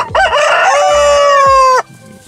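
A Shamo chicken sounding off beside its nest box: one loud, close, drawn-out crowing call lasting over a second, then a quiet tail-off with no talk.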